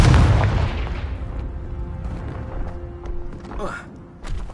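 A fiery Confringo spell bursting in Hogwarts Legacy, a deep, loud boom at the start that fades into a long rumbling decay, followed by faint magical whooshes and a short spoken line near the end.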